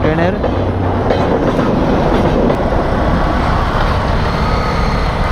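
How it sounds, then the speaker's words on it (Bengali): A train rumbles past loudly and continuously on a road trip near Tangail, a dense, close roar of wheels and carriages with no break. "ট্রেন চলে গেল।"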